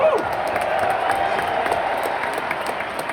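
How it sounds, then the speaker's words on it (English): Basketball arena crowd at a Chicago Bulls honoring ceremony applauding, a broad, sustained roar of clapping from a large audience in a big reverberant venue, steady and loud throughout. "get Johnny Red a round of applause."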